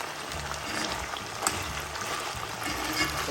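Warm water poured into a hot pan of frying pork, a continuous trickling, sizzling liquid wash heard close and steady, without talk.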